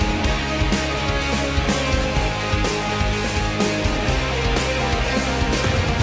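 Intro section of a rock song, with bass, drums and guitars all playing together in a dense, steady full-band mix, its drum hits recurring in a regular beat throughout.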